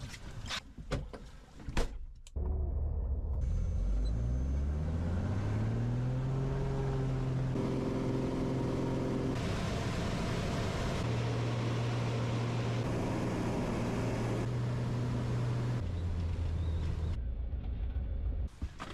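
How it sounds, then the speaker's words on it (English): Small floatplane engine droning steadily at a dock in Alaska, rising in pitch as it revs up and holding a loud, continuous hum with shifting harmonic tones for most of the time. "There's the plane."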